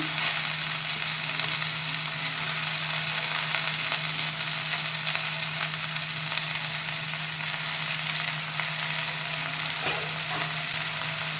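Finely chopped radish leaves frying in a pan, with a steady, even sizzle that runs unbroken throughout at a loud, close level, with no talking.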